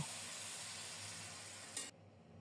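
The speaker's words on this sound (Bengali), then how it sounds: "এখন ফোটানো গরম জল দেব" Boiling hot water hitting spiced vegetables frying in a pan, a dense steady sizzle and hiss that swells briefly, then cuts to a quieter simmer.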